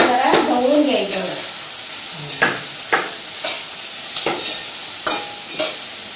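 Paneer lasooni ingredients with cashews are stirred in a sizzling pan, a steady frying hiss broken by several sharp scraping strokes of the spoon.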